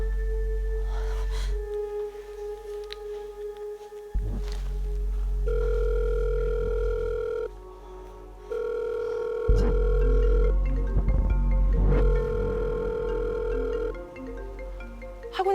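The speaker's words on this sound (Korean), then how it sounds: "학원에 딸린 테라스 쪽에서 희미하게 벨소리가 들리는 거예요" A telephone rings in a dramatized Korean horror story segment, a steady electronic ring tone sounding in repeated bursts and stepped tones over a low droning background, with no speech.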